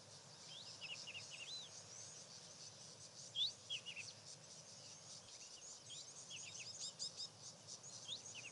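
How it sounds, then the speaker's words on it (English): A Diederik cuckoo calls in the background on a summer morning, faint repeated high chirping notes mixed with a steady insect drone and soft outdoor hiss. "There's a Diedrich's cuckoo calling in the background, also quite usual in the summer months."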